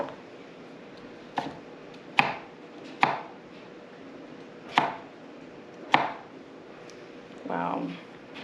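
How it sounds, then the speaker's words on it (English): Santoku knife slicing through food on a cutting board, six sharp separate chops at uneven intervals, close and crisp, with a brief voice near the end. "And then I will use the Santoku knife for the other side,"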